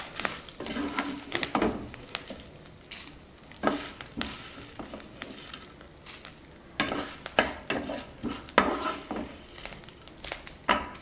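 Fried curry leaves, dried red chillies, tamarind and garlic scraped from a pan onto a plate, faint scattered scrapes, crinkles and light metallic taps of a spoon on cookware, with no talk.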